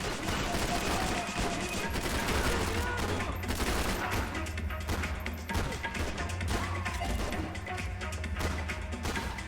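Gunfire in the video game Max Payne 3 comes as dense repeated bursts of loud, close shots and crashing impacts over a continuous low drone, with scattered voices mixed in.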